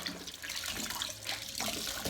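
Water draining out of a kitchen sink during dishwashing: a continuous, fairly quiet gurgling rush with splashy, bubbly fluctuations and no talking.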